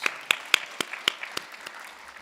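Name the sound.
audience applause for people on stage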